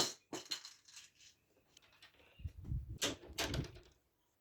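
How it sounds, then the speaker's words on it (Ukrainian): A tight, stiff door is forced open with a series of knocks, clunks and scraping rattles, growing heavier toward the end before the sound stops. "у тебе такі двері тугі важко відкриваються"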